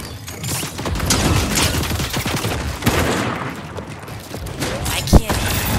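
Loud, rapid gunfire in the video game Fortnite, dense bursts of shots and mechanical clatter layered over a busy game soundscape, with one sharp heavier blast near the end.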